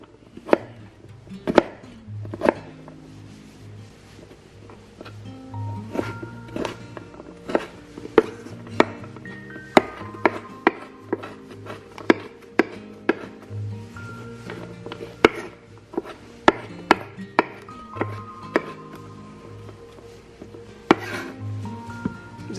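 Knife chopping food into small pieces on a board while preparing an exotic pet's meal, a steady run of sharp close taps with occasional clatter of dishes, no talking.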